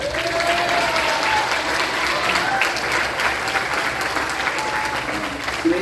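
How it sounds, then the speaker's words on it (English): Sustained applause from a school concert audience for a 7th grade middle school band, steady and dense clapping throughout at moderate loudness with no talk over it. "Give them a round of applause."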